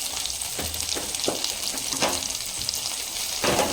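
A bread and potato cutlet roasting in butter on a pan gives a steady, fairly close sizzle throughout, broken by a few soft scraping stirs.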